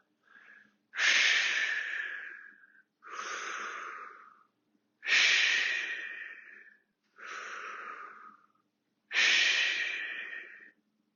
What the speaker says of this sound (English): Exhale forward. Inhale up.